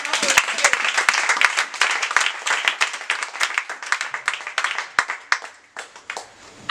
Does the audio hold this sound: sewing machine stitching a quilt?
no